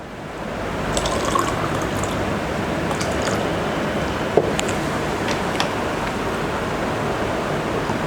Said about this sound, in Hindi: अब थोड़ा और ठंडा पानी मिला देंगे तो इसका और जो है टेम्परेचर वो कम हो जाएगा।